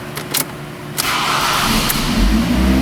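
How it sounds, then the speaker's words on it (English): A used replacement ECM has just been fitted to a Ford car. A couple of short key clicks are followed by the engine cranking and catching, then settling into a steady, close idle. "technically the car should run here"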